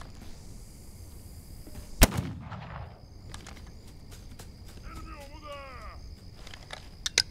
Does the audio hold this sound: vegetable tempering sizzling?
no